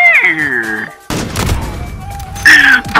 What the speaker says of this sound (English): Bro, you're shooting me through the wall.